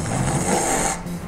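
A voice imitates throat snoring with obstructed breathing, giving a rough, rattling snore that drags on an inhale and then tapers off, moderately quiet and heard alone.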